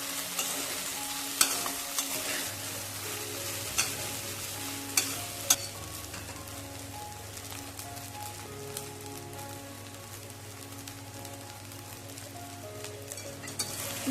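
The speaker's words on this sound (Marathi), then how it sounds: "आणि चांगलं एकसारखं हलवून घ्यायचं." High-protein sabudana khichdi with paneer being stirred in a pan, a soft continuous sizzle with scraping stirs and occasional clinks of the spoon, fairly quiet and without talk.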